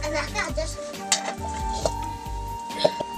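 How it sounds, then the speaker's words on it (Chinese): Chopped frog meat stir-fries in hot lard in a wok over high heat, giving a soft sizzle with clinks of a utensil against the pan beneath background music. "切碎的蛙肉加入锅中大火煸炒"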